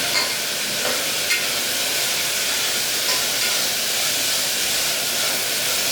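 Curry leaves crackle and fry in hot oil for an elephant yam curry, a loud steady sizzle and hiss filling the whole stretch with a few faint clicks of stirring, no voices.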